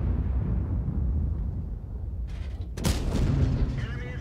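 A tank cannon in the World of Tanks video game fires at a Chieftain, a single loud, sharp blast followed by a rumbling decay over a low background hum.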